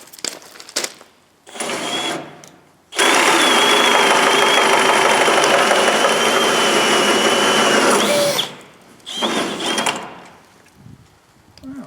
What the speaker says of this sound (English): Different model of drill than the first one.